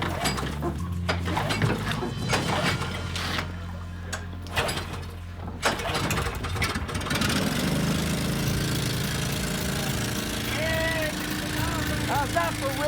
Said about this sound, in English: Dredge is fired up.